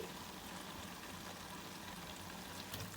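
Grated carrot frying in ghee with milk powder, a steady close sizzle running continuously without pause and with no talk over it.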